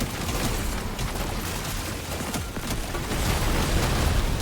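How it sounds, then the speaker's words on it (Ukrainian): Continuous booming, rumbling blasts fill the scene, a dense wash of explosions in Deep Rock Galactic: Survivor with crackling bursts layered on top, loud and sustained throughout. "Ух, як же вони вибухають."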